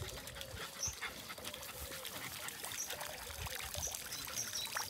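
A found puppy whimpers and squeaks faintly, with several short high cries over a low, noisy indoor background.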